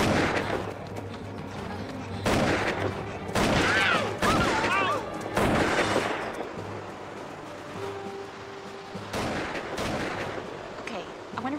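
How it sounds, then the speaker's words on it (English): Gunfire on an island rings out in several sharp, loud bursts scattered through the stretch, some in quick clusters, with voices talking in between. "I wonder why there's gunfire."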